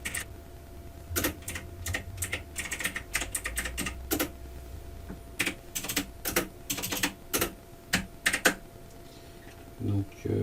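Typing on a computer keyboard, entering lines of text for a PowerPoint slide: bursts of quick clicking keystrokes with short pauses between runs, close and moderately loud.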